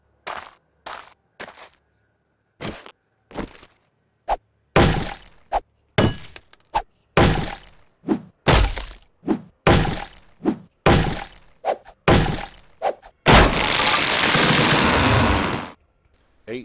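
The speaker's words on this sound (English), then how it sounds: "Now we'll use our fire axe and see what the difference is." Fire axe chopping a tree in the 7 Days to Die video game, a run of about eight sharp, loud impact thunks at a steady rhythm with short gaps, ending in a longer noisy crash.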